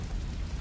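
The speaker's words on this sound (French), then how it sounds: "Le bruit que fait la pluie sur le toit en tôle de la petite cabane vous fait légèrement frissonner" Steady rain drums on the sheet-metal roof of a small, isolated cabin, a dense, unbroken patter with a low rumble beneath, fairly loud and with no voices.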